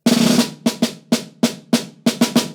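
Drum strokes in quick bursts, an opening roll followed by single hits and clusters of three rapid strokes, crisp and close.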